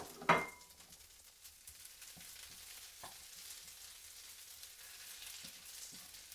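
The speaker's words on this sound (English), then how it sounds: "When that butter's foaming, then you can add in some sage." Sage leaves fry in foaming butter with a quiet, steady sizzle after a sharp clatter of utensil against pan at the start, and a few soft stirring knocks follow.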